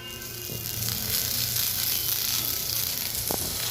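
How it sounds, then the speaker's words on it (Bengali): Shrimp paste fritters frying in hot oil, with a steady dense sizzle close up that stays even throughout. "বড়াগুলো ফ্রাই হয়ে গেছে"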